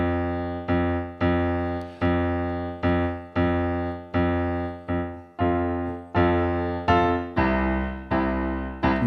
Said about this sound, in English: Sometimes the bass line is syncopated and it sounds like this.